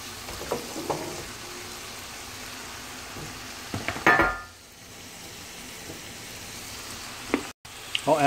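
Chopped broccoli sizzles steadily in a hot pan, fairly close, with a louder burst of frying as the pieces hit the oil and occasional clinks and stirring scrapes.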